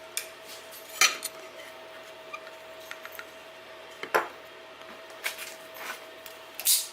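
An AxiDraw V3 pen plotter being taken apart with a Gerber multitool: scattered metallic clinks and clacks over a quiet hum, a few sharper knocks standing out between softer taps.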